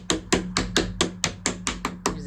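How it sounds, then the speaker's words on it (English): A mallet drives pegs into the holes of a flat-pack cube organizer panel, ten sharp, evenly spaced knocks in quick succession, close and fairly loud with nothing else over them. "So I need to get these into these holes and then hammer it in."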